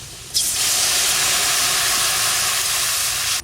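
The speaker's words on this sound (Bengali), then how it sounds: "আলু কষানো হয়ে গেছে এবার জল দিয়ে দেবো" Water poured into a hot pan of fried potatoes on a home kitchen stove, setting off a sudden loud, steady sizzling hiss of steam that holds for about three seconds before cutting off.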